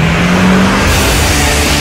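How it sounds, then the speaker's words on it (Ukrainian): Diesel engine running in hard frost on Arktik arctic diesel fuel, a loud, continuous close rumble with a steady low drone and no voices. "Так працює дизельний двигун на арктичному дизельному пальному «Арктик»"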